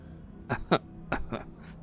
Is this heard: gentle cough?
yes